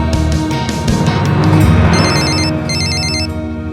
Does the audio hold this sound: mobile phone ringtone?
yes